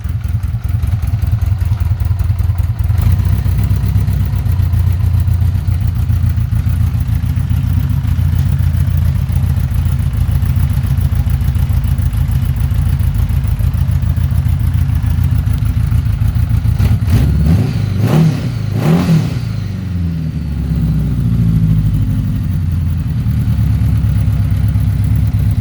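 A cold 1982 Honda Gold Wing Aspencade GL1100 motorcycle engine idles low and steady, loud and close, with a brief rise and clatter partway through.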